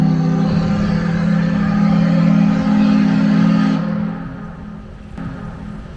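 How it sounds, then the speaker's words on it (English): A paddle steamer on the river at New Orleans gives a steady low engine drone with a strong bass hum, loud for about four seconds before it fades and drops away. "And that was the sound of the paddle boat steamer somewhere over there."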